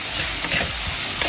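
Mango pieces stirred in a hot pan for a vegetarian fish-style curry, giving a continuous sizzling hiss with soft scraping stirs, close and steady, no talking.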